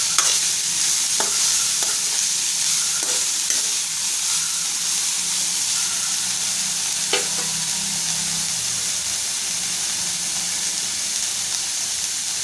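Cauliflower sautéed in a pan with Malvani-style ground spice paste, stirred steadily: a constant hiss and sizzle with scraping strokes of the spoon against the pan, close and even throughout, with no one talking.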